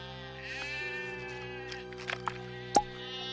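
A goat bleats in a drawn-out, wavering cry close by, followed by a few soft clicks and a sharp brief knock near the end.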